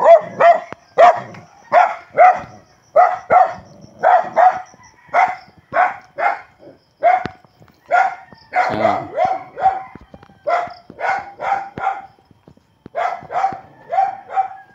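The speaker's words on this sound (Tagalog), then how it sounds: "Galit pa sa akin yung aso yan." An angry dog at a rural pig farm barks in rapid, loud, close bursts. The barks come in short clusters with brief pauses between them, and there is no talking.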